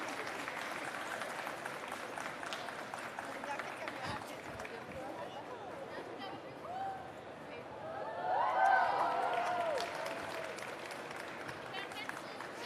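Crowd applause at the Vivatech tech event rolls on as a steady wash of clapping, swelling louder toward the end, with people talking and cheering throughout.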